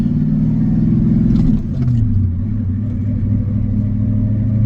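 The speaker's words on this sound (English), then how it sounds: "hear that diesel come to life" A loud diesel engine of a Ford F-250 truck drones steadily, its pitch shifting partway through as it pulls away in second gear and keeps accelerating, close and rumbling throughout.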